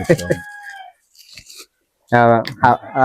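Crunchy food being chewed, heard as a few brief crisp bites between bursts of close talking voices.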